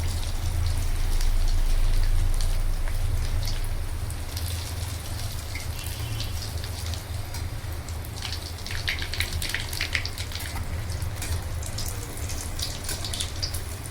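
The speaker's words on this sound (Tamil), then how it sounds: "எண்ணெயிலையும் போட்டு இதை ஃப்ரை பண்ணலாங்க" Egg kebab frying in hot oil, a steady dense sizzle and crackle that runs throughout, heard close and fairly loud with no talking.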